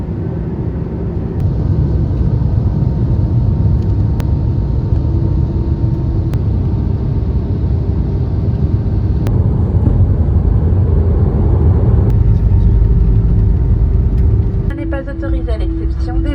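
Inside an EasyJet airliner cabin just after landing, a loud, steady roar of engine and air noise fills the space and drops away near the end, with faint voices in the background.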